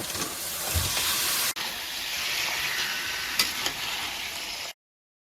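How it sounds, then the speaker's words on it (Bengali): Meat dropped into browned onions in a hot pan on a home stove, a loud continuous sizzle and hiss that jumps sharply as the meat goes in, then steady frying with a faint steam whine before stopping abruptly. "পেঁয়াজটা লাল হয়ে গেছে এই এবার দিয়ে দিচ্ছি এর মধ্যে মাংসটা"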